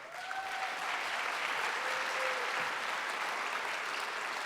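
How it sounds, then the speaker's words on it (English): Sustained audience applause fills a ballroom at a leadership prize ceremony, a dense, steady wash of clapping from a large crowd lasting throughout, with a few faint voices or whistles mixed in. "we all should be clapping"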